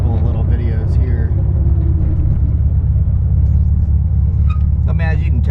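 A 1959 Volkswagen Karmann Ghia drives along steadily, its engine a continuous low rumble with road noise, while people talk over it throughout.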